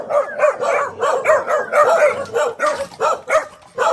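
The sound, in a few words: many dogs barking at a house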